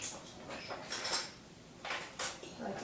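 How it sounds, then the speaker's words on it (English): Thick tahini stirred with a fork in a container, soft metallic scrapes and clicks in short bursts, quiet and close with no voices. "I like to stir it up with a fork"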